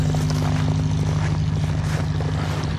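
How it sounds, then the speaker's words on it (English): A Mustang aircraft engine runs on a cold start on a chilly day of about 9 degrees, a loud, close, steady propeller drone with a deep rumbling hum that fills the whole stretch, no voices. "we might as well try and fire up the Mustang if the battery's good"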